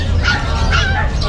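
A chow pom puppy yips and barks in short, close bursts, with a person talking over the sounds.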